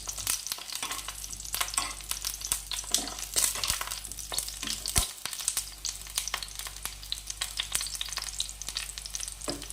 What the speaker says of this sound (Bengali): আমি কিন্তু খুব বিশাল কিছু তেল দিয়ে দেইনি অল্প পরিমাণেই তেল দিয়েছি দিয়ে এইভাবে ভেজে নিচ্ছি